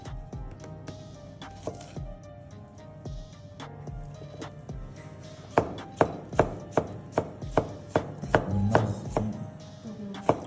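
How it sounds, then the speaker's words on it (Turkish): A knife chops an onion into a fine brunoise on a cutting board. Sharp, close taps come irregularly at first, then settle into a steady, quicker rhythm of crisp strokes. Nobody speaks. "Şuradan tamamen şeritlerini ayırıp Geri kalan kesimini yapıyorum."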